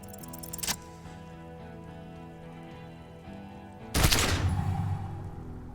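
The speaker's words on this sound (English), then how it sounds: "A plume of smoke and fire erupts from the gun, and your hand goes numb from the explosion" A single loud gunshot from the video game Disco Elysium bursts out over a steady musical background, followed by a short decaying tail.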